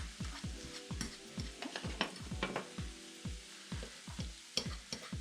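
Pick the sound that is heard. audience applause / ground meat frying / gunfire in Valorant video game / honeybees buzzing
ground meat frying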